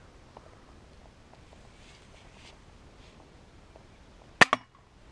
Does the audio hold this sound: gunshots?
yes